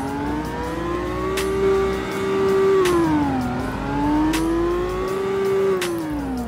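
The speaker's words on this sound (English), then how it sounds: "Here's the cold start, or here's the revs." An old Infiniti sports car in the video game Greenville revs its engine in steady cycles, the pitch rising and falling in smooth waves, loud and close, with faint clicks over the drone.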